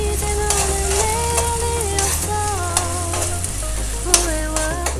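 Onions sizzle in a pan while Maggi noodles are being made, a loud, steady frying hiss with occasional stirring scrapes, and faint background music runs underneath.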